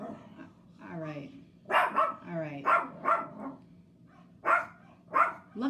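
Several dogs bark in repeated sharp bursts, fairly close and loud, mixed with whining and yips, while a person talks at the same time.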